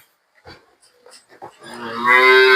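A Gir breed cow lets out a loud, long moo close by, following a few quiet shuffling sounds.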